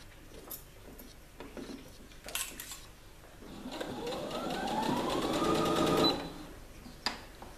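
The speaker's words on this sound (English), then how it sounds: "you need to stitch as close as the edge of the actual roll hem on the inside of the garment" A sewing machine runs slowly along a rolled hem on a jumpsuit, a rising whir building for a couple of seconds near the end between faint handling clicks and taps.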